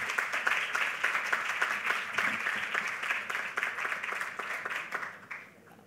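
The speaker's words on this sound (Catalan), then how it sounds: "Un fort aplaudiment." Audience applauding at an international pastry show in Sant Vicenç, a steady crowd of clapping hands at moderate loudness that thins and fades out near the end.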